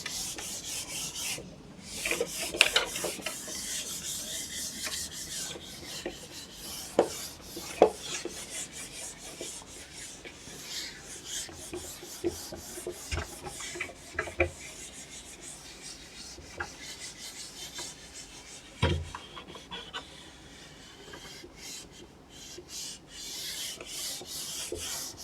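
A duster rubs writing off a classroom board in a long, steady scrubbing with occasional sharper knocks, close and moderately loud with no talking.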